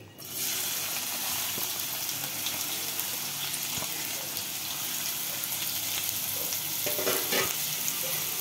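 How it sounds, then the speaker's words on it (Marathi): Onion dropped into hot oil for a mutton masala bursts into a loud, close sizzle that holds steady throughout, with a few faint stirring clinks near the end. "तेल चांगल्यापैकी गरम झालंय, थोडासा कांदा टाकून बघितला तर छान तेल गरम झालेलं आहे। या आपण कांदा ऍड करून घेऊया।"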